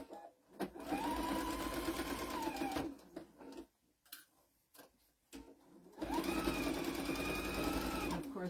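A sewing machine with an even-feed foot stitches a Halloween pillowcase seam in two loud bursts of fast, steady whirring, a quieter pause with faint clicks between them, close up.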